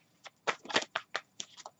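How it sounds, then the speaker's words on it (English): Tarot cards shuffle in a series of crisp, close riffling bursts, about eight quick flicks with brief pauses between, soft and without talk. "I want you guys to see like the shuffling going on and the cards."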